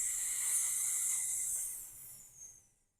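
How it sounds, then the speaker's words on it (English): A slow breath pushed out through pursed lips during a gentle Pilates stretch, a steady close airy hiss that holds for about a second and a half, then tapers and fades into silence. "breathing out through pursed lips"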